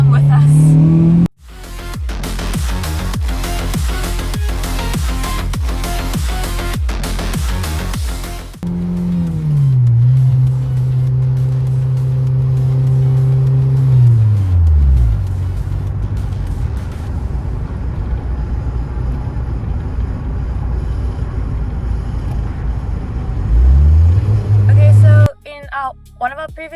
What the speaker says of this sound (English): we are taking the car for a drive just to see if it actually has been solved